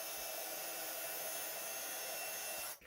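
A heat tool blows a steady, loud, even hiss and whir while melting gold embossing powder on a card. The sound holds constant for nearly three seconds, then cuts off abruptly.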